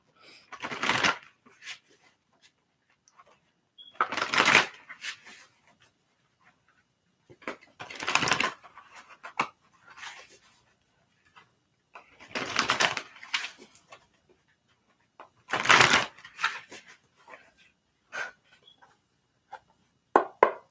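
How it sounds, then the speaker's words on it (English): A deck of cards is shuffled for a psychic reading, with about six brisk riffling bursts close by, each separated by a few seconds of near silence. "So I'm just shuffling."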